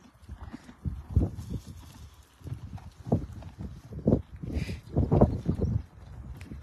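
Mustang horses being fed move nearby, giving irregular thuds and clopping hoof sounds in small clusters, close and moderately loud against a quiet background, with a faint whinny-like tone partway through.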